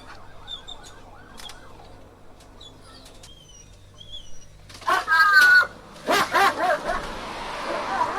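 Distant chirps and faint sounds give way to a police dog barking loudly in short bursts over a police radio's background hum.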